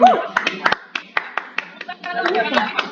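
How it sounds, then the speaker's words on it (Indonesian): Scattered clapping from a small audience at an insurance training session, a handful of distinct hand claps in an uneven rhythm with voices and a child's speech around them. "Tepuk tangan dulu untuk Anda semua."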